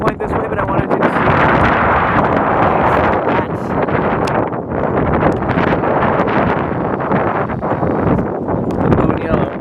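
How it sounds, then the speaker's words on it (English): Steady, heavy wind buffets the microphone on the Barbados waterfront, a loud continuous roar that rises and dips slightly throughout. "A bit windy when I point this way"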